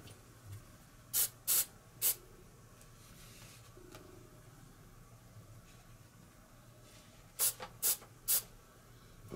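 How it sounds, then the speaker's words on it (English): Hairspray from an aerosol can, sprayed onto a King Tiger model tank's turret ring, comes as several short sharp hissing bursts: three near 1–2 seconds and three more near the end, close and distinct over a quiet background. "a couple little zaps of hairspray"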